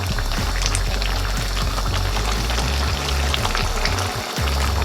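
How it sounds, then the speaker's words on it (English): Rice boiling in a pot of water for a chicken and chickpea curry, heard as a loud, continuous bubbling and rumbling that stays close and steady throughout, with no talking. "The rice is now on the boil."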